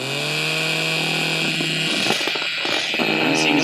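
A Hexbug BattleBots Rivals Minotaur toy robot spins up its drum weapon: a loud, close, whining electric motor tone that holds steady, then breaks into rattling, clattering hits and buzz before the whine returns.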